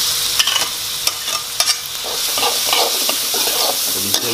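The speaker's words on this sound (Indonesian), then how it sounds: "Tumis dulu sampai coklat." Shallots, more of them than garlic, sautéing in hot oil in a pan: a loud, dense sizzle with a few sharp scrapes of the spatula and no voices.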